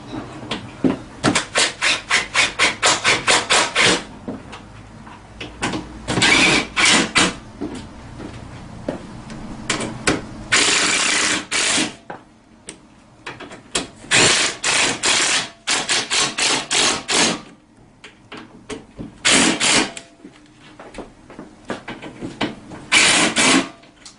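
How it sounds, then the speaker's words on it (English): Rapid bursts of ratchet clicking from tightening the backrest bolts on a Tao Tao CY50D scooter during assembly, close and loud, coming in repeated runs separated by short pauses. "Now I'm going to go ahead and just start ratcheting them down."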